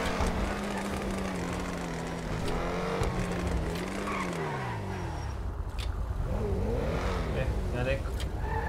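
An Audi R8 sports car engine in the video game GTA 5, a loud continuous engine note rising and falling as it accelerates and shifts, with some tire squeal, steady and close throughout.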